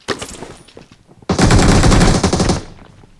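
Gunfire rattles in a video game: a few scattered shots, then a loud sustained burst of rapid automatic fire lasting over a second before cutting off, close and dominant with no talking.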